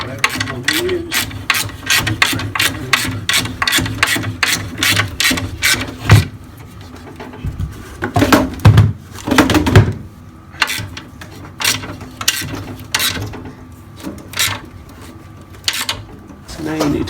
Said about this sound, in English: Take your ratchet or spanner, whatever you want to use.